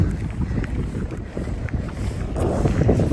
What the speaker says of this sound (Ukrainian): насправді дуже сильний вітер, голосу буде не чути